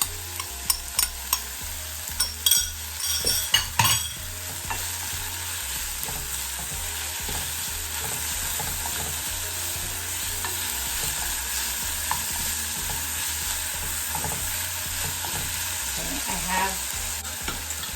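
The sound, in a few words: crushed dry chili peppers frying for dal puri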